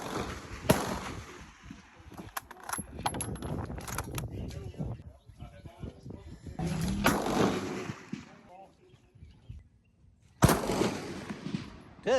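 Rifles fired at a 200 to 600 yard shooting range: loud cracking reports echoing across open ground, scattered shots at irregular intervals, mixed with wind noise and people talking nearby.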